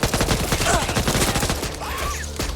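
Rapid pistol fire in the zombie shooter video game Back 4 Blood, a quick string of loud, closely spaced shots over about two seconds, followed by a few sparser shots.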